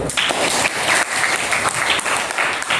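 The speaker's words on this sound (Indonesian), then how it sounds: "Kita berikan tepuk tangan dulu." Classroom applause from a group of students during a chemistry lesson, a dense, steady clapping that fills the space evenly from start to finish with no voices over it.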